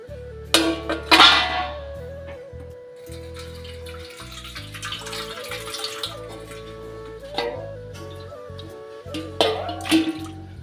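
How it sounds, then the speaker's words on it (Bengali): Ginger being washed under a running tap in a sink basin, water splashing and pattering steadily with a few louder gushes and clatters near the start and end, no talk over it. "আমরা এটা হচ্ছে এখন ধুয়ে নিয়ে আসবো, এই জন্য হচ্ছে আমরা বেসিনে চলে যেতেছি।"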